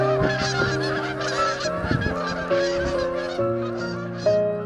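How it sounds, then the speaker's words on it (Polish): Geese flying in a noisy migrating flock honk over and over, a dense overlapping chorus of loud nasal calls that rises and falls continuously with no pauses. "Jest to krzyk gęsi lecących z tyłu, który wspiera lecące z przodu w utrzymaniu prędkości."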